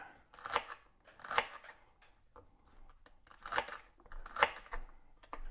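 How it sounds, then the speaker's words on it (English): A knife chops vegetables on a board while prep for a smoked Mississippi pot roast gets underway, making bursts of crisp, crunchy cuts in irregular clusters, fairly quiet and close, with no talking. "As soon as we get this stuff chopped up"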